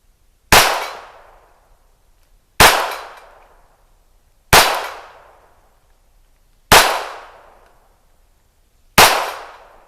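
Five sharp pistol shots from a Ruger Mark IV fired at a steel flapper target, evenly spaced about two seconds apart, each a loud crack with a short ringing decay and quiet in between.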